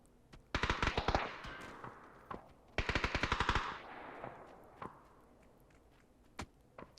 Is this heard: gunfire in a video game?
yes